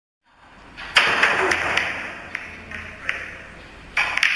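Pool balls in a 9-ball safety shot at a China 9-Ball Open match, a sharp cue-tip click followed by several crisp ball-on-ball clacks and rail taps spaced over a few seconds in an indoor hall.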